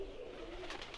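Pigeons cooing in the adventure game Randal's Monday, a soft, steady low coo running through the whole brief moment, moderately close over faint ambient background.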